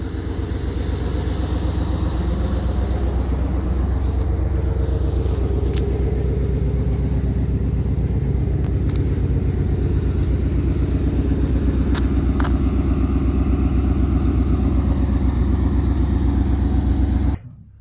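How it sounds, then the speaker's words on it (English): A truck engine on an ultra cold start settles into a loud, steady, low rumbling idle heard close up for the whole stretch, with faint clicks and rattles on top before it cuts off abruptly. "That was the ultra cold start."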